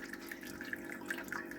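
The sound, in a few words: sparge water flowing into mash tun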